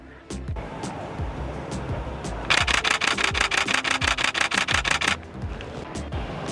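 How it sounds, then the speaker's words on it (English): A rapid burst of sharp mechanical clicks, a Canon 77D DSLR's mechanical shutter firing in quick succession for a couple of seconds, with faint background noise before and after. "So you have heard the sound of the mechanical shutter"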